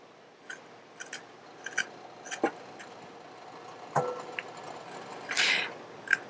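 A knife cuts fresh ginger on a board for a vegan Japanese buckwheat dish, giving sparse faint clicks and small scraping taps spread unevenly, with a brief louder rasp near the end.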